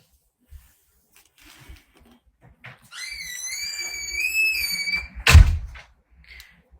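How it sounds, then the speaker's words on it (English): A room door is pushed shut with one loud, close thud near the end, after a stretch of high electronic tones and faint background noise. "Close my door."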